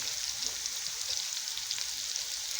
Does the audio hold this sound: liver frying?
yes